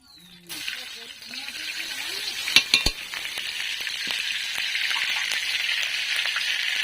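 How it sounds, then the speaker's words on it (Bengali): A spoonful of ghee hits a hot kadai and sizzles, a bright hiss rising after a couple of sharp clinks and building into a steady, loud frying sound; a voice speaks briefly at the start. "এবার ওর মধ্যে আমি একটু কড়াতে এক চামচ ঘি দিয়ে দেবো"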